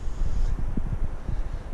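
Wind blows outdoors on a mountain path near a base-jump exit point in Norway, rumbling and buffeting the microphone in low gusts throughout.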